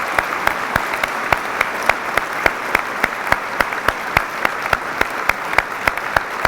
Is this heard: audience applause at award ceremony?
yes